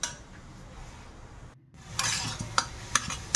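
Grated carrot is sautéed in ghee and stirred with a utensil in a pan: a soft steady hiss, a brief drop, then livelier scraping and light clinks of the spoon against the pan, close by, with no talk.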